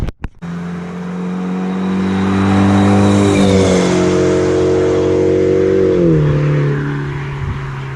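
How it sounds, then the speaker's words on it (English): A BMW 1 Series E88 drives past close by, its engine note rising to a loud peak as it nears, then a slight pitch drop as it carries on and recedes, with no talking. "I'm gonna place the camera here and then we're gonna do a quick flyby."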